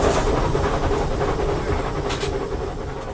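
Southern Railway steam locomotive Clan Line runs at full regulator, a loud, dense roar of exhaust beats, hiss and rolling wheel noise, with a brief sharper burst near the end and no talking.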